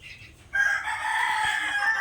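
Hen with her chicks in a delivery box, with a rooster-like crowing and clucking that starts abruptly after a quiet moment and carries on loud and steady to the end.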